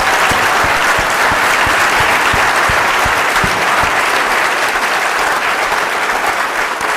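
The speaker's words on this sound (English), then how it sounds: "Can we get a round of applause for them?" Loud, sustained applause from a large audience at the first inaugural Joomla World Conference, honoring the organizers; many hands clapping continuously and evenly throughout, close and full, with a few sharper individual claps standing out early.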